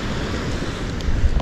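Ocean waves break near jetties on a sandy beach at Lido Key, a loud, rough wash of surf mixed with wind buffeting the microphone, swelling toward the end.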